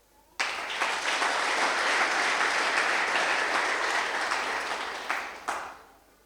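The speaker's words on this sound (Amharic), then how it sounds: "እስቲ ሳልነግራችሁ አጨብጭቡ" A church congregation bursts into sustained applause, a dense wash of many hands clapping that starts abruptly, holds steady for about five seconds, then tapers off with a few last claps.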